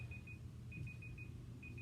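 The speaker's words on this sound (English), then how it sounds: "that's our timer" An exercise timer gives short, faint, high electronic beeps in an irregular series over a quiet room hum.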